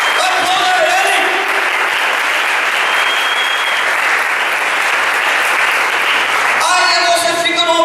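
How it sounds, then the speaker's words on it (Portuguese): A church congregation applauds during a worship service, a dense, steady wash of clapping lasting several seconds, with voices heard over it at the start and again near the end. "Aplauda Jesus"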